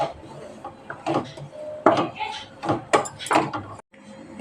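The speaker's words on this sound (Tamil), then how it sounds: "இந்த மாதிரி கட்டையெல்லாம் உடச்சி விட்டு நெய் ஊற்றி இப்படி வறுக்கணும் கொஞ்சம் கொஞ்சமாக" Ghee-coated gram flour being roasted in a pan while lumps are broken up, making soft scraping and clinking of a spatula against metal in short irregular bursts close by, with a voice speaking over it.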